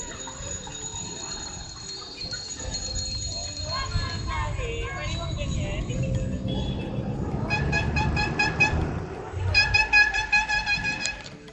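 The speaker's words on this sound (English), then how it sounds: "At the protest, cars and jeepneys honked their horns in support." Cars and jeepneys honk their horns at a street protest, short toots and longer blasts overlapping amid busy traffic noise and crowd voices, growing denser toward the end.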